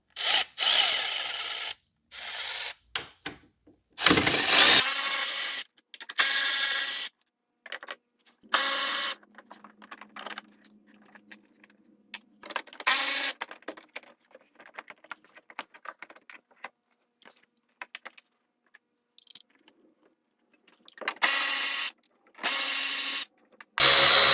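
Ten millimetre bolts coming out of the valve cover housing on a 2016 BMW M235i's 3.0 L turbo N55 engine, with bursts of ratcheting and metallic tool clicks separated by quiet gaps, close and fairly loud.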